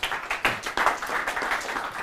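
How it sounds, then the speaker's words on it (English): An audience claps for Dr. John at a market-trading talk, a short burst of applause with uneven pulses that swells and dips over two seconds, moderately loud, with no voices over it. "let's give Dr. John a nice round of applause"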